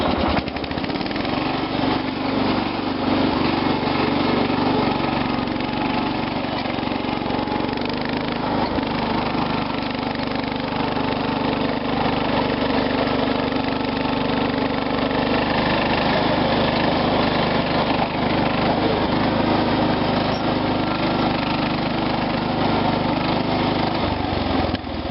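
Small engine with a Carter carburetor runs steadily and evenly at idle, a continuous close drone with no talking.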